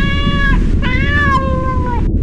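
A cat meows in a drawn-out, wavering call, then a second shorter meow, close and loud over a steady low rumble of background noise in a deserted city.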